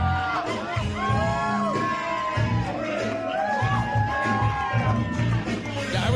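A Glory Pro wrestling crowd reacts to Rahim de la Suede, with a steady wall of cheering, whoops and shouted calls swelling and falling across the whole stretch, dense and close with no break.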